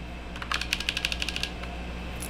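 A quick burst of typing on a 60% mechanical keyboard with linear switches, about a dozen light, muted keystrokes in a row, fairly close, over a low background hum.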